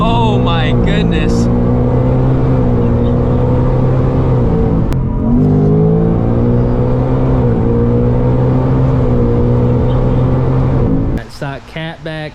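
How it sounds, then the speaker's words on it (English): Loud, sustained revving of a supercharged S650 Ford Mustang with a Whipple supercharger and otherwise stock exhaust, a steady harmonic engine drone rising and falling for about eleven seconds before cutting off, with brief voices near the end. "It was essentially a stock S650 Mustang with just a Whipple on."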